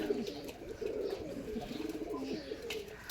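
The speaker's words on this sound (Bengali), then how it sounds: "আমি ভিডিও দেখাবো সেগুলো হচ্ছে দেশি কবুতরের" Native pigeons coo continuously while bathing in potash water, a close, low, rolling cooing from several birds overlapping without pause.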